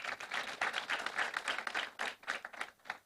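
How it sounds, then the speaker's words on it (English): An audience at a medical school white coat ceremony gives a round of applause, a dense, fairly faint patter of many hands clapping that swells and thins in uneven waves. "Let's also give them a round of applause."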